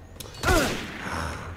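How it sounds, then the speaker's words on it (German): A single gunshot rings out in the video game Assassin's Creed Unity Dead Kings, a sharp blast with a resonant metallic ring and rumbling tail, heard close against game background sound. "jetzt kommt gleich der nächste Schuss."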